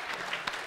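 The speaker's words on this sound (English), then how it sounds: "Give her a round of applause" A brief, quiet burst of clapping from a small gathering at a Christmas Eve event, muffled and short-lived with no talk over it.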